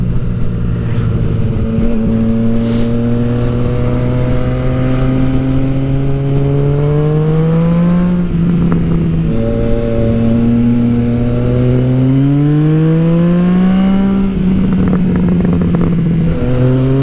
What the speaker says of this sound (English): this freaking bike feels so good after that ECU flash